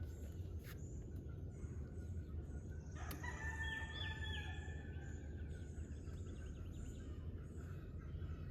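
A rooster crows faintly in the distance near a house, one drawn-out call rising over steady low outdoor rumble and hiss.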